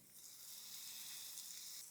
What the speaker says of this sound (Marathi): तवा तापला बटर लावलेली बाजू आपल्याला खाली करायची